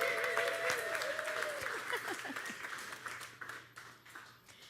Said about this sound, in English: So now let's continue that applause and welcome Abby Smith Rumsey.